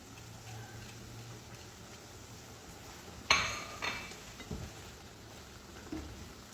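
Spiced chicken with turmeric, garam masala, salt and black pepper being stirred in a pan, giving a few clinks and scrapes of a utensil against metal, one sharp knock followed by softer taps, over quiet background hiss.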